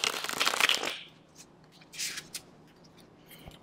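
A deck of tarot cards riffled and shuffled by hand, a loud crisp flutter for about a second, then softer brief card slides and taps alone.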